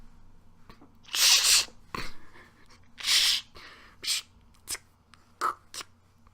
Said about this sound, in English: And that was the sound of putting pants on.